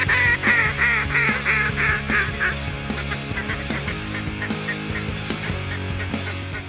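Wild ducks and geese call over a duck hunt at Reelfoot Lake, a loud, layered chorus of honks and quacks repeating in quick bursts from many birds close by.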